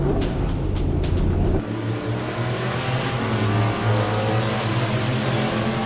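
A '57 Chevy Rapid Transit and La Troca race side by side. Engines roar close and loud, then drop to a lower, steady drone as the cars pull away.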